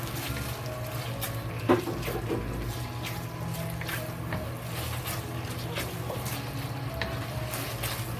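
Pork shreds frying in a pan, a continuous dense sizzle with soft stirring scrapes, close and steady throughout.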